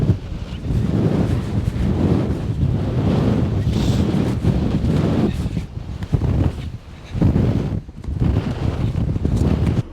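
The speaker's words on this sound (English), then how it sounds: "it is getting a little windy" Strong gusts of wind at sand dunes in southern Colorado roar and buffet the microphone continuously, with a surf-like rush rising and falling throughout.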